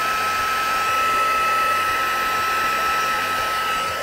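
A heat gun blows steadily to dry chalk ink on paper flower petals, a loud, continuous whirring rush of air that stays even from start to finish with no talk over it.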